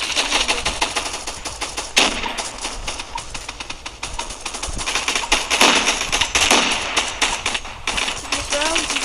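Rapid bursts of video game gunfire from Gun Fight Arena crackle in quick clustered volleys, loud and sharp, with a voice talking over the shooting.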